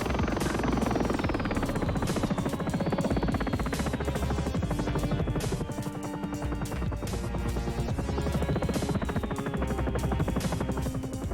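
Loud, steady throbbing Sikorsky S-76 helicopter rotor and engine drone in the X-Plane 11 flight simulator, with a rapid chopping pulse and a whining tone that shifts slightly in pitch.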